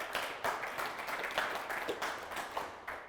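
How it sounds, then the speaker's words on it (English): An audience at an evening science lecture on invasive species gives the speaker a round of applause, a steady, moderately faint crowd of hands clapping that continues throughout. "Could we give him a big round of applause and thank him?"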